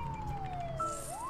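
An ambulance siren in the SimCity city-building game, a single wailing tone sweeping slowly downward and then rising again, steady and moderately loud with no talking over it.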